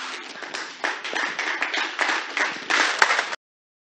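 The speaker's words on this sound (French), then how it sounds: "On applaudit s'il vous plaît." Conference audience at an international women's rights event applauding as a university representative steps forward: steady overlapping clapping from a crowd, moderately loud, ending abruptly into silence.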